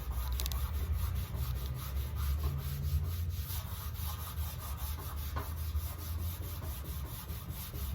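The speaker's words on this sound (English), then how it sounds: "So I'm just going to continue to rub on this, try to get most of this stuff off of here" Hand rubbing cleaner across a recteq Bullseye grill lid, making a steady scrubbing, sanding-like rasp in continuous strokes close to the microphone, with no talking.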